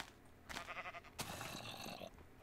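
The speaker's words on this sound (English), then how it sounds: "Nice sheep in the tree." Sheep bleating in a video game, a couple of wavering calls at moderate distance over steady ambient game sound, with no talking.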